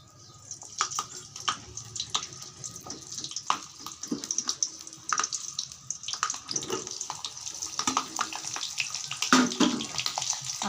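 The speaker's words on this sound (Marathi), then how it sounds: "मी आता कढई ठेवलेली आहे, गरम तेल झालेलं आहे. आता ह्याच्यामध्ये मी टाकणार आहे बघा" Stuffed capsicum fries in hot oil in a kadai, producing an uneven, crackling sizzle with sharp pops, close up and moderately loud throughout.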